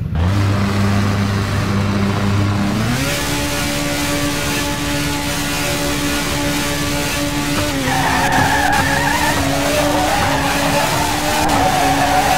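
A race car's engine in a No Limit Drag Racing video game, loud and droning as it revs up in pitch, with two clear gear shifts that drop the tone before it climbs again.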